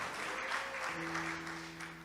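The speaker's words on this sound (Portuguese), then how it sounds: "Uma salva de palmas para Jesus." Church congregation at a Baptist worship service applauding, a soft, steady patter of many hands heard at a distance for a couple of seconds, with a faint sustained tone entering partway through.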